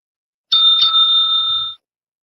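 A doorbell sounds a clear two-note ding-dong chime up close, the second tone ringing out for about a second before cutting off in a quiet room.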